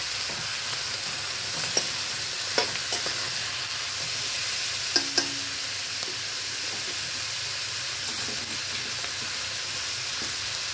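Loud, steady sizzling of duck meat stir-frying in a hot pan, with occasional clinks and scrapes of stirring; no talking.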